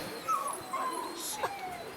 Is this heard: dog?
yes